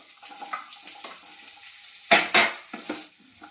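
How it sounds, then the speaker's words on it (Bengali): Capsicum frying in a pan gives a low sizzle, and a spatula stirs it with a few louder scraping clatters midway, close by and without talk. "ক্যাপসিকামটা ভালো করে ভেজে নেব"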